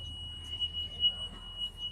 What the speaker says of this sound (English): So that's the alarm that the back emergency door is open.